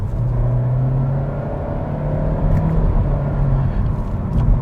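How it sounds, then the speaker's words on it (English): A 2022 Honda Civic hatchback with a CVT drones steadily from inside the cabin as it is held in a paddle-selected gear, a low engine hum that shifts slightly in pitch with no one talking. "Let's use the paddle shifters here. This is 2nd gear."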